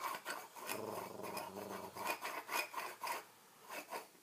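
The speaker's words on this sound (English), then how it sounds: "The oregano is in the grinder." An herb grinder grinds oregano in close, repeated rasping twists, a gritty scraping texture with short rhythmic bursts and brief pauses between turns.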